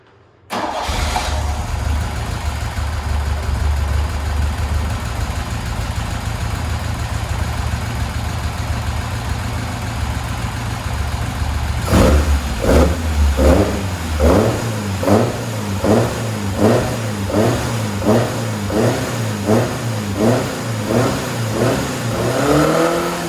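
A Tiger Cat E1 kit car engine, started cold on the enricher after ten years unused, cranks and catches into a steady idle, then is revved repeatedly in an even rhythm of rising and falling bursts, loud and close.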